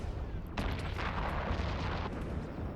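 Ship weapons in EVE Online firing on sleeper frigates at an extraction node: a dense, continuous roar of booming shots with a sharp onset, sustained and loud throughout with no talk.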